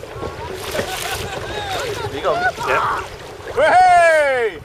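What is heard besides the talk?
gust of wind on a boat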